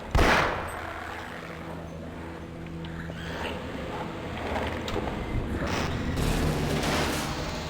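Gunfire in the video game Half-Life: a burst of shots at the start, then a sustained rumbling wash of game battle noise and booms that swells toward the end, with no talk over it.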